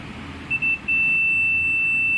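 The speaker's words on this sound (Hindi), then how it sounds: "यहाँ पर जो है हमारा बीप का साउंड आ रहा है" A short stutter of electronic beeps from a diagnostic meter testing a car ECU, then one high continuous tone that holds steadily over a low background hum.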